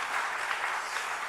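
A church congregation claps in welcome for a visiting missionary couple, giving a brief, steady patter of applause from many hands spread through the room, moderately distant and without a break.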